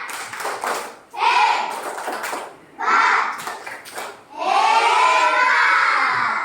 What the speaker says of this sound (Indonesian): Coba kita berikan dulu tepuk hebat untuk teman-teman semuanya